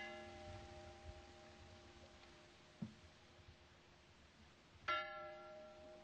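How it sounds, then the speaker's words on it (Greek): A village church bell tolling for a death, heard faint and distant with ringing overtones, one soft stroke near the middle and a clearer clang toward the end, over quiet background. "Γιατί βαράει έτσι λυπητηρά η καμπάνα?"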